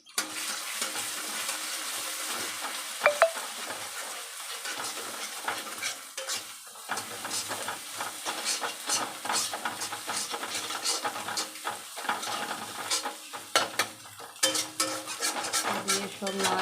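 Maggi noodles with eggs being stirred in a lightly oiled frying pan, utensil scraping and clinking in irregular bursts over a soft, continuous sizzle, close and fairly quiet.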